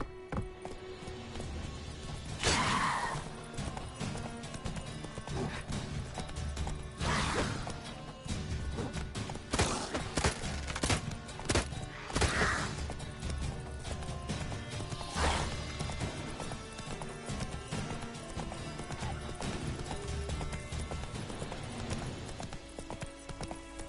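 Horse hooves clip-clop steadily at a gallop through The Witcher video game, loud and close, with heavy thudding impacts and occasional whooshes and a brief whinny mixed in over a constant busy backdrop.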